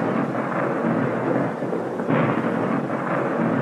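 Thunder rumbling through a storm in a 1935 black-and-white film, a continuous loud roll of low rumble that swells again partway through, with no voices.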